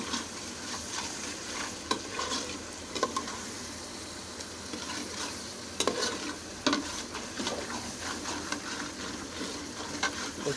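Whole spices crackling and frying in a pan for a roast dish, continuous sizzle with occasional scraping stirs and small pops, close and moderately loud, no talking.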